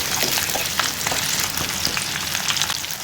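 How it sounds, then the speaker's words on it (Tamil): Whole shallots sauté in a pan for sambar rice, giving a loud, steady sizzle and crackle with no voices. "சின்ன வெங்காயம் நல்லா வதங்கட்டும்."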